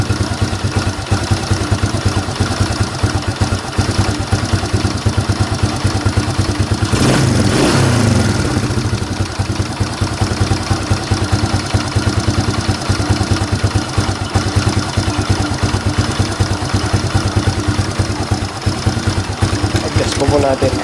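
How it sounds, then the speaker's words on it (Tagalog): A Fury 125 motorcycle engine idles loudly up close with a rapid ticking clatter, briefly revving before settling back to a steady putter. "Huwag mo na lang po pansinin yung ingay ng makina,"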